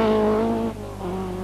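A rally car on a stage of the 1983 Circuit of Ireland Rally, its engine note droning in strong harmonic tones that drop suddenly as it shifts, then pick up again, close and loud.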